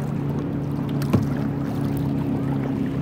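A kayak glides over open water, with a steady low hum and wash of water and wind around the hull and one brief splash of a paddle stroke partway through.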